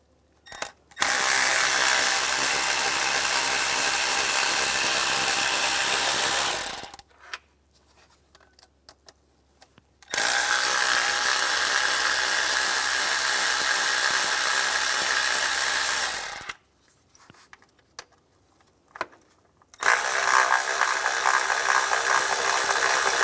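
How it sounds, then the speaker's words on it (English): An impact gun spins out intake manifold studs on a 2004–2010 BMW X3 using an E7 socket: three long, loud bursts of tool whine about six seconds each, separated by short quiet pauses, close up with no talking. "I'm going to take these 3 studs out. Use an E7 socket."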